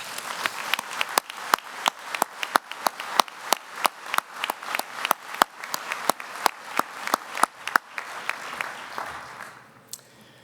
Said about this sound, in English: Please join me in a round of applause for all of our award recipients.